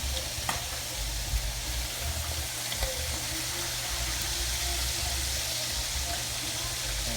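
Fish fries in hot oil for Jamaican escovitch, a steady dense sizzle with a few small clicks as the pieces are turned, close and continuous, with a voice speaking faintly over it.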